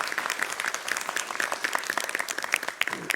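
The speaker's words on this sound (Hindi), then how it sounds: "जोरदार तालियों से स्वागत कीजिए जस्टिस इकबाल अंसारी साहब का" A studio audience applauds to welcome a guest onto a television debate show, a steady rattle of many clapping hands at moderate level, heard alone without speech.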